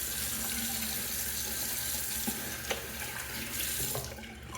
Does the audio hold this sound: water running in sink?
yes